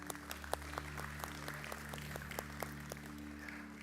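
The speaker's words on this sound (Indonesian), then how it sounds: "Boleh beri tepuk tangan buat Clifton." Church congregation at a Sunday service applauding, sparse and faint individual claps in an irregular rhythm over a steady low hum in the room.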